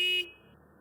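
A forklift horn gives a single short electronic honk during a pre-start check, loud and close, then cuts off into quiet background hum.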